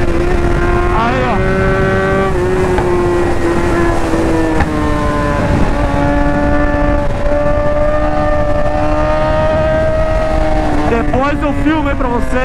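Honda NC 700X motorcycle accelerating hard on a road toward a mountain range, a loud steady engine drone with rising and shifting harmonics and heavy wind rush close to the rider.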